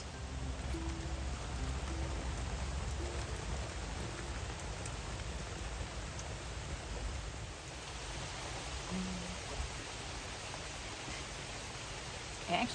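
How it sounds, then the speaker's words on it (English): Steady rain falling outside, a dense, even hiss that fills the whole stretch, loud and close with slight rise and fall and no voices over it. "I actually think the sound of the rain might be too much."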